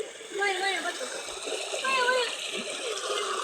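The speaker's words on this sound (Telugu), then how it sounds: "మనం వాటర్ ఫాల్స్ దగ్గరకు వచ్చాం ఫ్రెండ్స్" Rushing, splashing water at a waterfall runs as a constant wash beneath people talking nearby, one of them a voice.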